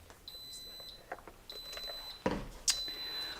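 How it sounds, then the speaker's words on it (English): An electric pressure cooker signals the end of cooking with a series of high, steady electronic beeps in about three long tones, with faint kitchen clatter between them. "you hear the beep? That means our 3-minute pressure cooking is done."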